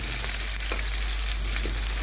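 Chopped onions fry in hot oil for a ridge gourd and soybean dish, a constant close sizzle with a few faint stirring scrapes, steady and alone without any talk.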